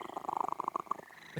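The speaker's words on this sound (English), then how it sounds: "Purr and meow simultaneously." A cat in the video game On the Rain-Slick Precipice of Darkness purrs in a rapid, rhythmic rumble with a soft meow-like tone layered over it, fairly close and quiet, with no talking.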